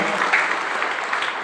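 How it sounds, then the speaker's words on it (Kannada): Loud, steady applause from an audience at a public event, a dense continuous wash of many hands clapping that fills the whole moment with no voices on top. "ಒಂದು ಜೋರಾದ ಚಪ್ಪಾಳೆ ಮೂಲಕ."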